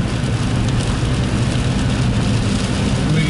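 Rain is heard from inside a car at night as a dense, steady wash of noise over a low rumble of the moving vehicle, continuous and even throughout with no voices.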